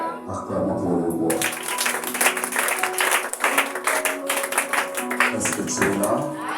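A church congregation acclaiming the king, with dense clapping and cheering swelling after a moment of voices and continuing steadily, loud and close.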